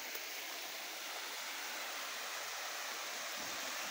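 A waterfall along a walking trail near an old bridge, steady broadband rushing roar of falling water, close and continuous with no pauses, no voices over it.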